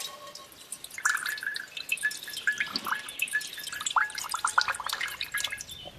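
Liquid from fermenting compost in a bin drips and trickles in a quick, irregular run of small close splashes, alone and without talk.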